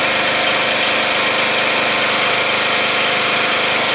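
A Murray Select lawn tractor engine runs steadily and loudly up close after a weld repair to its exhaust pipe and muffler, giving a continuous, even drone with no talking over it.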